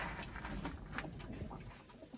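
Sialkoti pigeons, a breeder's flock, cooing softly and steadily at a fair distance amid faint rustling and patter, with no talk.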